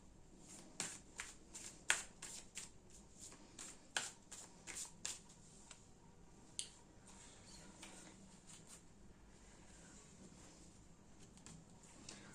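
Tarot cards riffle and snap softly in a quiet room as a deck is shuffled by hand. Irregular crisp flicks and taps run for several seconds, then thin out.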